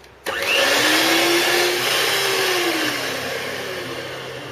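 A blender switches on abruptly and whizzes a dark chocolate mousse mixture, a loud, steady motor whir that holds constant and then slowly eases in pitch.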